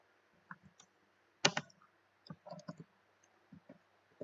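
Keyboard keys clicking out a short command in irregular bursts, with one louder clustered strike near the middle, close and quiet with no voice present.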